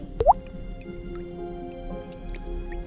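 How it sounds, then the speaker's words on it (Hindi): A single cartoon raindrop lands on a tree leaf with a bright, close plop and a rising squishy drip tone, followed by faint soft ambience and small twinkly accents in an animated story. "मोती धरती पर गिरने के बजाय एक पेड़ के पत्ते पर गिर गई"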